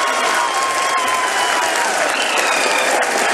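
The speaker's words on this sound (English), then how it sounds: "People are applauding." Loud, dense applause from a crowd at an ISRO event during the Chandrayaan-3 lander landing, a continuous burst of clapping heard up close with faint crowd noise mixed in.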